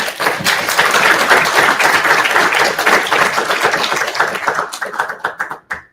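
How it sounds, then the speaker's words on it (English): An audience at a livestreamed oversight hearing gives a quick round of applause, dense and close at first, then breaking into a few scattered claps as it dies away. "So if we can just give him a quick round of applause."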